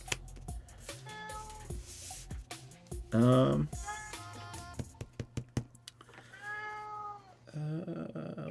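A cat meows several times nearby, with drawn-out, rising calls mixed with a person talking and faint keyboard clicks.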